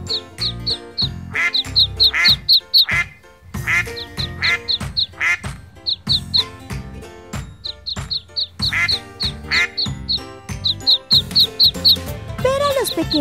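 Cartoon duckling quacks playing with a baby monkey on a farm come in loud, rapid bursts of repeated bright quacks over a bouncy, tinkling musical backing.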